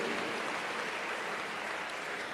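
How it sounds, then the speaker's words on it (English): An audience at an engineering college course completion ceremony applauds the graduating students, a dense, steady wash of clapping that holds evenly from start to finish with no voices over it. "Please give a big round of applause to all our students once again."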